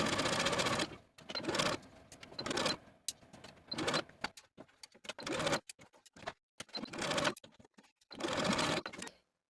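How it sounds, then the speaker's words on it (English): Sewing machine stitches a yoke seam on a collared blouse in repeated bursts of rapid whirring and clatter separated by short pauses, close and moderately quiet. "I'm going to sew from one bottom edge of the yoke all the way across to the other side of the yoke"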